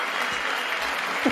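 A crowd applauds in a brief, dense burst of steady clapping, close and fairly loud, with no voices.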